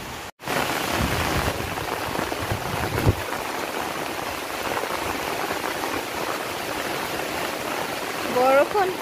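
A small stream pours between rocks during rainfall, a steady dense rush of water and rain patter close by throughout, with a brief bird-like chirp near the end.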